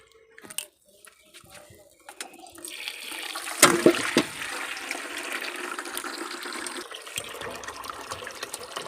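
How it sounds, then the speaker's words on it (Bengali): Water runs into a household bucket, a continuous rushing pour that builds after a few faint knocks and clatters and keeps going steadily to the end. "জল দিয়ে বালতিতে"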